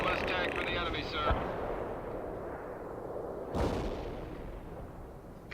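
Distant artillery and gunfire rumble in the video game World in Conflict, with two heavier booms and a constant low battle noise, alongside brief shouted voices early on.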